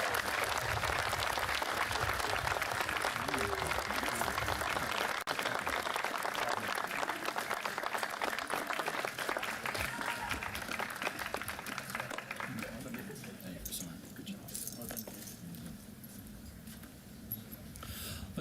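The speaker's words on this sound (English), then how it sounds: "Let's give one more round of applause for Cadet Tomazzini and all of our ROTC scholarship recipients" A large audience claps for a cadet and ROTC scholarship recipients at a university ceremony, dense sustained applause that gradually thins and fades toward the end, with some voices mixed in.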